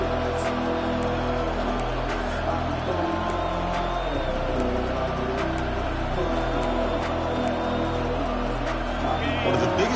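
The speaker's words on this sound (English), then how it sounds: "Third down and the crowd really getting into it." A football stadium crowd at a Southern Miss game on third down roars and cheers steadily throughout, a dense sustained wash of voices with scattered whoops, loud and continuous with no clear break.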